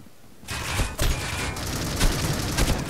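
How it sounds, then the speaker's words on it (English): Machine gun fire in the mobile shooter Critical Ops rattles out in loud, close, rapid bursts that overlap almost continuously. "I've gone for the best machine gun, I'm going a bit mental here"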